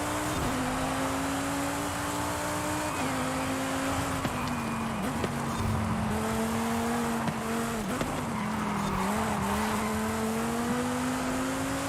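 Race cars, including a Crossbow GT4, run in a racing video game with a steady engine drone that shifts pitch through gear changes, tyres squealing now and then, loud and continuous with no talk.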